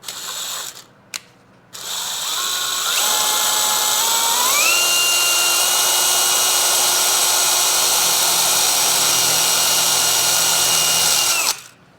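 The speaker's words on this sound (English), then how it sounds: "That's where you want to drill your hole." A power drill bores into a crankshaft seal on a Yamaha twin Jet 90/100 outboard, with a few short bursts followed by a long, loud, steady whine that shifts pitch once and then cuts off.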